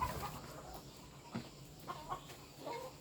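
Free-ranging laying hens in a semi-intensive yard give soft, scattered clucks while scratching for food, faint and intermittent against a quiet background.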